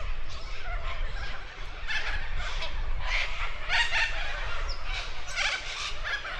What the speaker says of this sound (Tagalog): Ayun, daming ibon. Hindi ko alam kung anong klaseng ibon to.